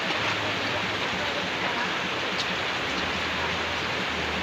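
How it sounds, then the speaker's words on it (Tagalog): Heavy rain falls as a dense, steady hiss of drops across the whole stretch, loud and unbroken, with no voices. "Lakas na naman ng ulan"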